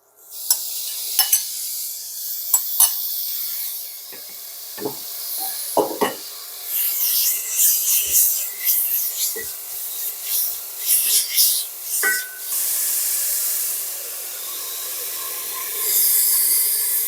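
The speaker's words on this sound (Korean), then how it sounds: "고기 볶아줍니다" Meat stir-fried in a pan for an enoki mushroom rice bowl, with bursts of close scraping and stirring over a bright, continuous sizzle that swells and fades across the stretch, no voices.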